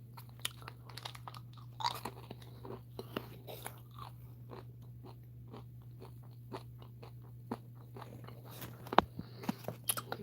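A crunchy salty snack is chewed close to the ear in a quiet room, with repeated irregular crisp bites and crunches over a faint steady hum.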